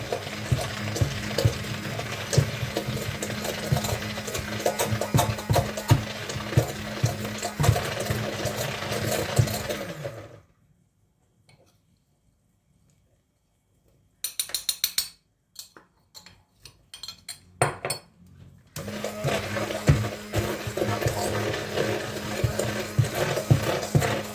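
Batter for Malatya fış fış tatlısı, mixed with heaped baking powder, being whisked in a bowl: steady rapid scraping strokes, a silent pause, then a burst of scattered strokes before the brisk whisking resumes, close and loud.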